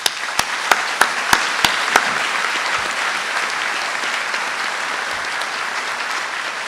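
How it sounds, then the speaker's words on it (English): Graduation audience applauding, a broad wash of clapping that opens with several sharp distinct claps before settling into a steady, sustained round of applause. "I think we owe her another round of applause."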